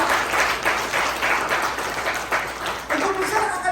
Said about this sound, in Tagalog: Pumalakpak po na malakas.